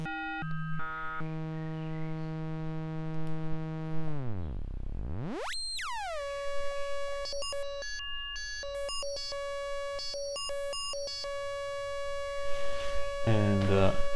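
Bright buzzing sawtooth oscillator tone from an Erica Synths Pico System VCO, heard alone and fairly loud, stepping through pitches, sweeping down and sharply back up, then stuttering in rapid gated bursts.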